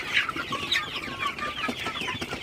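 Sonali super hybrid chickens, 52 days old, cluck and chatter at midday in a poultry shed, several birds calling over one another in short overlapping notes at moderate distance.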